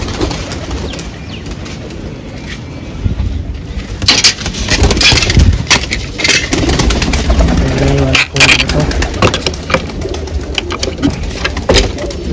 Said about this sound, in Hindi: कबूतर जाल में छोड़ रखे थे, अब इनको वापस जोड़ा दिया है, ऊपर वाले जो है उड़ने वाले कबूतर हैं हमारे।